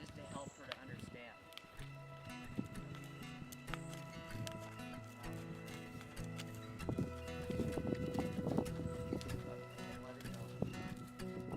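A horse on a first ride under saddle moves with faint hoof thuds and tack sounds beneath steady talk from a rider or trainer, with other background noise mixed in.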